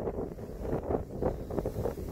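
Strong wind buffets the microphone on an exposed summit at Flat Top tower, a steady loud rushing roar with gusty surges and no voices.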